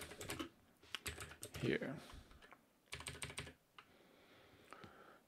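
Fingers type on a computer keyboard at close range in uneven bursts of clicking keystrokes, with someone speaking briefly between them.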